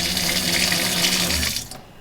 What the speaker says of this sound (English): We have a beautiful undermount sink with running water.